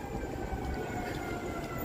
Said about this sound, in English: Got sirens.